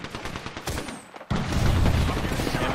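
Triple Take rifle shots in the Apex Legends battle royale, fired through thermite fire: a few sharp reports early, then a sudden loud, dense burst of crackling, roaring noise that stays heavy to the end.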